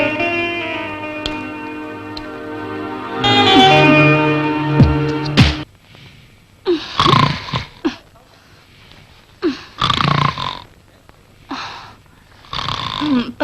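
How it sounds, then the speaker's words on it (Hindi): A man snores loudly in a series of rough, rasping breaths with pauses between them, close and prominent in a quiet room. "पता नहीं क्यों इतनी जोर से खर्राटे भरते हैं।"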